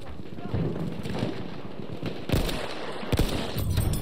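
Gunshots in a sniping video game, a few sharp loud cracks standing out over a steady rumbling battlefield background with distant scattered fire.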